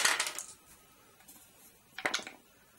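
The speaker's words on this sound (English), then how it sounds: "we're going to have to roll the dice to see where" Dice tumble across a table during a COIN series board game of Liberty or Death: two quick rattling bursts of clicks, close and fairly clear, separated by a short near-silent pause, with no talking.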